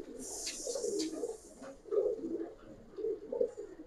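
A Giribaz pigeon coos close by in soft, low, rolling phrases, three or four throaty bursts over a few seconds, with faint background noise and no talk.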